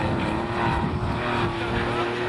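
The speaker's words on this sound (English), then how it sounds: "that distinctive Porsche engine note, the tail wagging on the slippery opening tests" A Porsche rally car roars continuously on a slippery Mid Wales stage, its engine holding a loud, steady, strained note with a sustained tone throughout, close to the listener.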